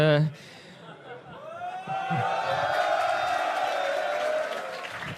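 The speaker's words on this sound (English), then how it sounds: "The crowd is incredibly loud, passionate." A StarCraft 2 tournament crowd at a grand-final match swells into loud, sustained cheering and applause that fills the hall. Whoops sit over a steady roar.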